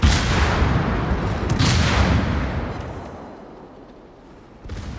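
A naval broadside from a warship in a video game lets out a loud booming volley of heavy guns that rolls and slowly fades, with a fresh burst of fire starting near the end.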